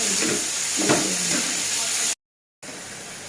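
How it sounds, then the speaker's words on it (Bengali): Chicken pieces frying in a pan with a loud, steady hiss and sizzle close by, a few sharper crackles near the start, broken by a brief cut to silence before the sizzling resumes. "ফ্রাই করে নিই একে"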